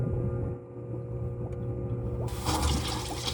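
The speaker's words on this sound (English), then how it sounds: "I'm going to manually kick the pump on just to make sure that everything's still working" A septic system pump runs with a continuous mechanical hum and steady tonal drone, then a sudden rush of water rises and churns loudly over it.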